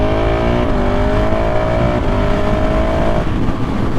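A KTM 690 SMC R single-cylinder motorcycle revs hard and loud up close, its engine note climbing repeatedly as it snaps up through the gears with a quick shifter and no clutch, without pauses between shifts.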